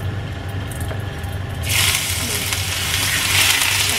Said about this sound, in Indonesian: Pokoknya minyaknya yang harus yang panas banget. Nah, kalau udah panas, masukkan jahenya.